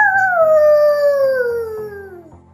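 A voice imitates a fox howl: one long, loud, close wail that slides steadily downward in pitch and fades at the end.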